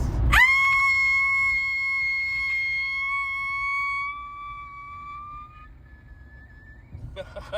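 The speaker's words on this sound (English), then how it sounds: "That is an epic scream for an epic road trip" Epic scream used as a podcast intro sound effect, one long, loud, sustained high-pitched cry that holds steady, then fades away and leaves a quiet gap.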